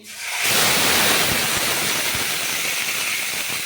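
Tomato paste hits hot oil in a pan for masala paneer and bursts into a loud, steady sizzle that rises suddenly after a brief quiet moment and then holds a continuous hissing crackle.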